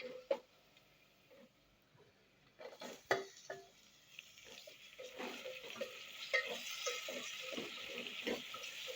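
Tomatoes are stirred and fried with browned onion in a pan, giving a soft sizzle that builds under irregular scraping and stirring knocks.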